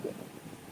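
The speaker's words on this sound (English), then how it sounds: "apologize for the wind" Low, rumbling wind buffets the microphone in a brief, dull gust with no voices, on a Florida rooftop.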